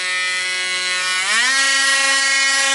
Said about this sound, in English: I'm going to use a Dremel tool to cut that out